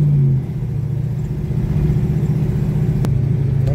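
A 1938 vintage car rolls along with a steady low engine rumble and drone heard from inside the cabin, holding even and close throughout with no voices.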